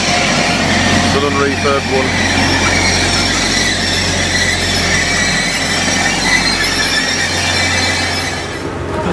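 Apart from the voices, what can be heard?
Grand Central train to Doncaster running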